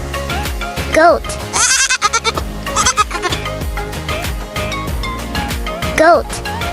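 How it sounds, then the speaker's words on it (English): Goat bleats from a farm animal sound set for toddlers, a few wavering calls over a busy musical backing, with one strong bleat near the start and another near the end. "Goat."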